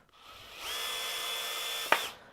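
A power drill spins up and drives a screw into wood without a pilot hole: a brief rising whine that holds steady for just over a second, then ends in a sharp clack before winding down, close and alone.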